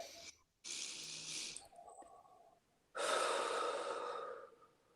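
Slow, deep breaths drawn in and pushed out in two long, airy bursts, close and fairly quiet, with a softer pause between them in a quiet room.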